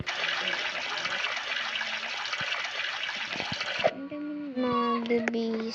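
Tap water runs steadily for several seconds during a morning routine of washing hands and face before a shower, then stops as a voice speaks over fainter trickling.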